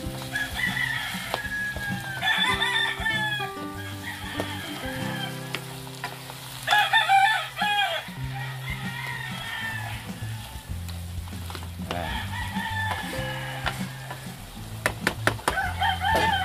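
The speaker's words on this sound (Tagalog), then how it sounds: "Yan, haluin lang po natin." Ground pork picadillo with pineapple syrup is stirred in a pan, a steady close sizzle broken by spoon scrapes and clinks. A rooster crows loudly in the background twice.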